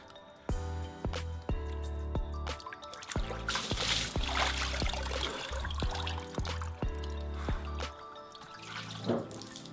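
Water splashes and sloshes in an ice bath made from a converted chest freezer, heard up close as repeated wet slaps, drips and churning, with no voices.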